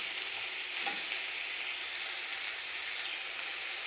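Kara chutney ingredients fry in a hot pan with a steady, even sizzle and hiss while being stirred, and a faint scrape of the spatula comes early on.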